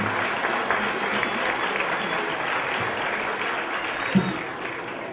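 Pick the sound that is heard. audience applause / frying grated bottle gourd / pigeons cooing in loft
audience applause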